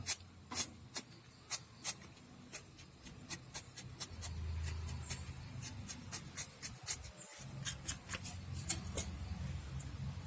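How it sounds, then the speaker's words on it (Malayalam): Quick, sharp knife taps on a cutting board as ginger is chopped, in an uneven but steady rhythm, close and fairly quiet, with no voices. "ഒരു ചെറിയ ചെറിയ ഒരു ഇഞ്ചി കഷ്ണം കൊത്തായിട്ട് കുത്തി അരിഞ്ഞിടാൻ പോവാം"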